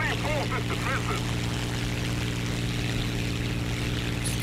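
A propeller plane engine drones while flying in the War Thunder video game, a steady loud hum that holds for several seconds without pause, with a voice talking over the start.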